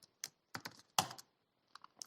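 Keystrokes on a computer keyboard in short bursts, a few quick taps followed by a louder cluster and then sparse final presses, close and alone with no talking.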